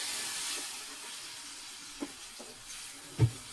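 Tomatoes hit browned frying onions in a pan for Egyptian koshari, giving a steady soft sizzle with a few faint clinks and one louder knock near the end.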